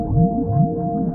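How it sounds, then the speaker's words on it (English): Whale call from a whale swimming up through the sea in an animated Bible film, a low moaning, swelling tone that rises and falls in slow waves against a steady hum, loud and continuous. "A whale swam up to him."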